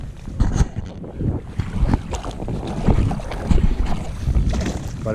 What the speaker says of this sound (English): We're rowing.